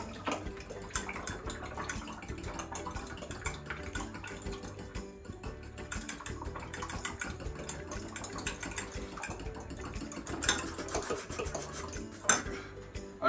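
Dishes being washed in a kitchen sink: running water with repeated clinks and clatters of plates, pans and cutlery, close and steady throughout.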